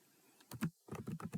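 Keystrokes on a computer keyboard while code is entered in Python's IDLE: a short pair of close clicks, a brief pause, then a quick run of several more taps, near and clear with no talk.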